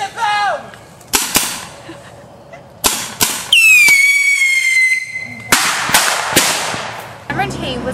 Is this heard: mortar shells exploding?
yes